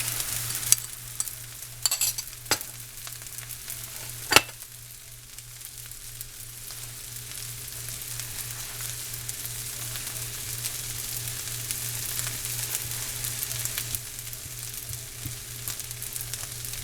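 An egg frying in a pan beside fried rice, giving a continuous close sizzle with a few sharp utensil taps early on, with no talking.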